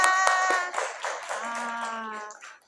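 Pupils in a madrasah ibtidaiyah primary-school classroom clap their hands in a short, uneven burst of separate claps, mixed with loud children's voices shouting and chanting throughout.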